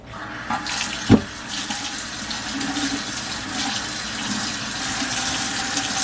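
Tap water runs steadily into a kitchen sink while food is rinsed under it, a close, continuous splashing hiss with a brief clunk near the start.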